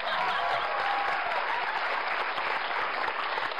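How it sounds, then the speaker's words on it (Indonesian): Studio audience clapping on an Indonesian TV talk show, a steady wash of many hands, fairly quiet and muffled, lasting a few seconds without a break. "Tepuk tangan dong."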